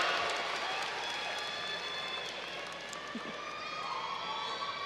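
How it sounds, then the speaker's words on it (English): A graduation crowd at a collegiate academy ceremony applauds the seniors with sustained, dense clapping and light cheering that fills the hall, steady and moderately distant throughout. "give them a round of applause for their dedication, blood, sweat, tears, and hard work"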